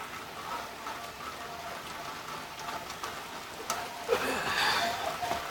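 Steady rain patters down softly and evenly, faint and continuous, with scattered drips and a few brief louder taps toward the end.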